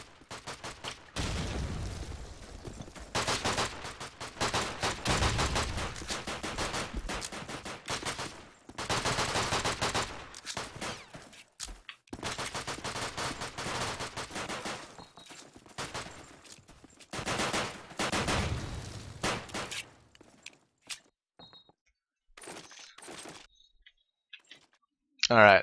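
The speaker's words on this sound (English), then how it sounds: "Hypno does fire off his shot onto Supreme." Gunfire in the video game Call of Duty 2, repeated bursts of rapid automatic shots alternating with pauses, with a commentator talking over the match.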